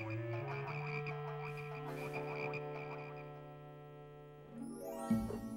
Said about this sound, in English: You, make the frogs go away.